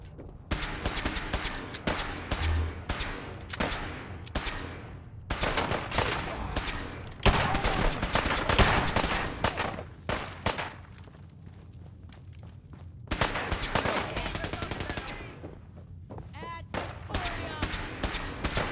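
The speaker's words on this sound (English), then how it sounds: "Taking fire!" Gunfire in the video game Fallout 4, with rapid bursts of loud automatic shots in dense volleys separated by short pauses, plus thuds and a ringing tone near the end.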